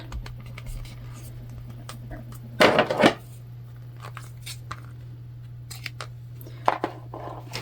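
Scissors make a single short, close snip into fabric bag panels during sewing, followed by faint handling noises against a steady low hum.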